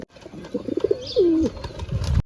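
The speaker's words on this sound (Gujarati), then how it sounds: "મજાવાળા કબૂતર પણ આપણે ઘણા થઈ ગયા છે" A pigeon nearby gives a soft, rolling low coo, with a few faint shuffling sounds before and after.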